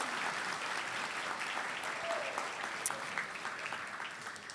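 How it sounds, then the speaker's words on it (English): A sustained round of audience applause for table sponsors at the Stand Up and Cheer 2024 gala, steady, even clapping from a large room filling the whole stretch at moderate volume. "How about a round of applause for all of our table sponsors?"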